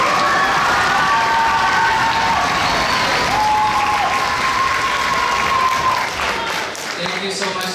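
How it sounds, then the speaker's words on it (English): A school concert audience at a middle school finale gives loud, sustained applause, a dense wash of clapping with some cheering, fading toward the end as an amplified voice begins to speak. "So let's give him a round of applause."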